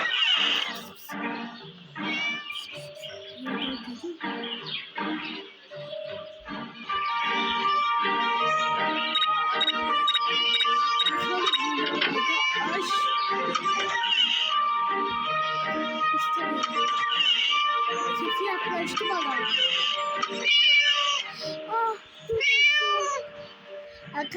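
Cat meows from a horror-style teacher video game, with repeated mewing calls mixed into game music and sound effects while a person talks over much of it.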